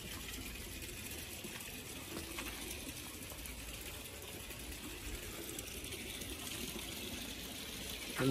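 Water pours steadily into a backyard tilapia pond tank, making a continuous rushing, gushing wash close by with a faint mechanical whir, and no talking.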